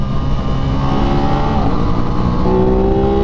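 An Aprilia RS660 motorcycle engine revs hard, a loud, close, steady mechanical drone whose pitch climbs gradually through the whole stretch.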